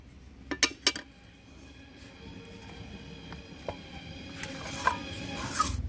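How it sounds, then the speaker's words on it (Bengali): A wok of cooked ripe mango pulp, made for mango bars, is lifted off the stove, giving several sharp metallic clinks and knocks, two close together early on and a few lighter taps later over quiet kitchen background. "এখন আমি কড়াই ধরে নামিয়ে দিচ্ছি।"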